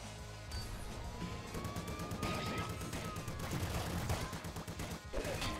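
Rapid gunfire from the video game Nuclear Throne (Ultra Mod) crackles in dense bursts alongside game effects and a rising tone, with a player talking over parts of it.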